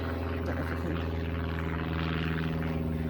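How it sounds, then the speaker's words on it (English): A steady droning aircraft engine hums at a distance, a constant propeller-like tone with no one speaking. "aeroplane."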